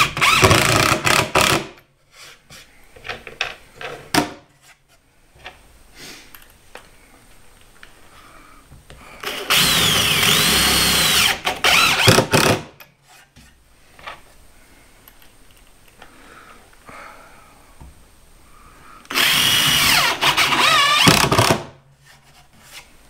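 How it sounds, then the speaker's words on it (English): An old cordless driver with a slightly odd trigger drives screws into a shop storage cart, sounding in two loud, close, sustained whirring bursts of about three seconds each. Quieter workshop handling noises fill the gaps between them. "This is my old driver."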